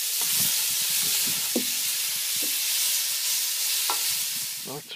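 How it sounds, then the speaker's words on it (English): Meat browning with bacon in a cast-iron potjie pot for chilli con carne, a constant bright sizzle with frequent scraping stirs and clinks of the utensil against the pot, close and steady with no talking. "I think we're going to take that off and brown the meat."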